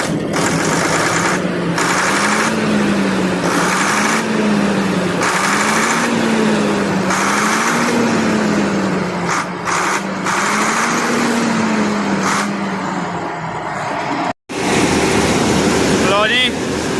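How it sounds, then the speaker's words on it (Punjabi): A combine harvester engine revs at full throttle, a loud sustained roar with a wavering tone and rhythmic pulsing, heard close with voices speaking over it. "ਸਾਊਂਡ ਚੈੱਕ ਕਰੋ ਜੀ ਇੰਜਣ ਦੀ ਕਿੰਨੀ ਟੌਪ ਦੀ ਆ।"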